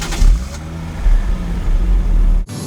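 A seventh-generation Toyota Mark II Tourer V with a twin-turbo engine accelerates in a loud, gruff, rising drone, heard close from the road or cabin, with a brief dip near the end like a gear shift.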